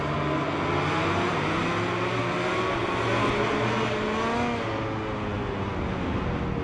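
Race motorcycle engine in a MotoGP game, revving loudly and steadily at high pitch with no other sounds, easing slightly toward the end.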